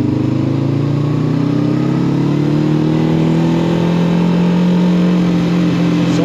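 A Macbor Montana XR5 motorcycle accelerates hard, its loud, close engine rising steadily in pitch as it speeds up, a continuous revving drone with no talking.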